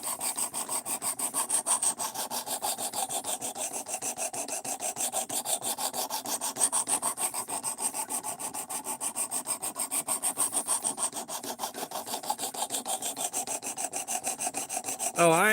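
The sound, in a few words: sanding with 220 grit sandpaper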